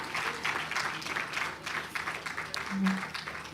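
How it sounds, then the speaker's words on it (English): Audience applause at a keynote address event, a steady dense clatter of clapping filling the room with a brief swell near the end, with faint voices mixed in. "Can we make that applause bigger"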